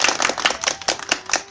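A crowd claps at a live stage event in Nepal, giving brief applause. The claps come fast and close together, loud and crisp, with no voice over them.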